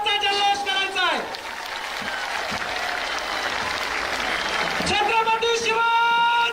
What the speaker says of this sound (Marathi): आपण सगळ्यांनी प्रचंड टाळ्यांचा जल्लोष करायचा आहे।